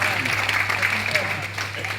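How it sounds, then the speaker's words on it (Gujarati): An audience at a satsang bhajan gathering claps in sustained applause, heard close and fairly loud with a steady hum and speech mixed in. "એને તાળીઓથી ફરી વધાવીએ"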